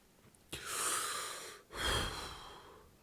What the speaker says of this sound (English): Let's take a deep breath.